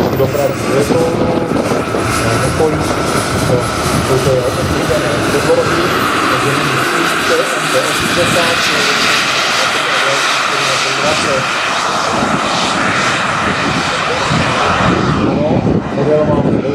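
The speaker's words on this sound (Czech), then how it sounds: "Model máme ve vzduchu, je to poháněný model dvěma turbínami" A twin-turbine RC model MD-80 airliner jet's turbines roar and whine overhead at a steady, loud level throughout, with a voice speaking over the engine noise.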